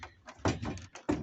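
A truck door in poor condition gives a few short knocking thuds and rattles, close by and fairly quiet, spread over about a second.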